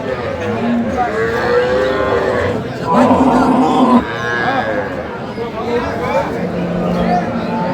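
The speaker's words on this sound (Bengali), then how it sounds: "গাভী বাছুর আমরা দেখছিলাম এখানে।" Dairy cows and calves moo loudly nearby at a rural cattle market in Dinajpur, long low calls repeating amid a busy hubbub of chatter and voices.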